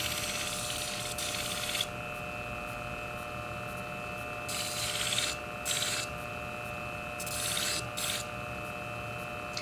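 Steady scraping and rasping of a shear blade tip being rounded off during sharpening, a continuous gritty rub with brief louder bursts of grinding, close and without talk.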